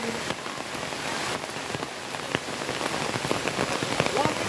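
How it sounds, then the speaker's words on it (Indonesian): Rain pours steadily onto a football stadium during a local tournament match, a dense close patter with scattered louder drips and faint background voices. "stadion kami saat ini sedang diguyur hujan hingga terjadi sedikit tergenang"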